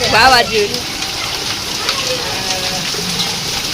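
Heavy rain and hail hiss steadily with scattered pattering impacts of hailstones, while a voice speaks excitedly over the downpour at the start.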